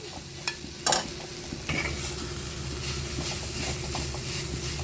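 Chicken perat with fried onions stirred in a pan, a close continuous sizzle broken by clanking spoon hits and scraping strokes, steady throughout.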